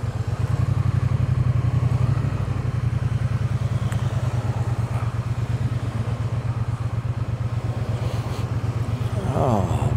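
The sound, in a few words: motorcycle being ridden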